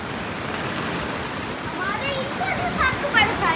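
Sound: heavy rain

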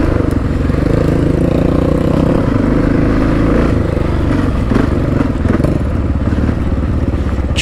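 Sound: motorcycle accelerating on a dirt road

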